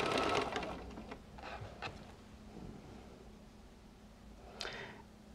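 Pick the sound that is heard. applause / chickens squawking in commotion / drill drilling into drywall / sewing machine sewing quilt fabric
sewing machine sewing quilt fabric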